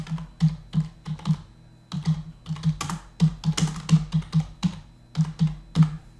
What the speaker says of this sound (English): I'm going to type in the University of Houston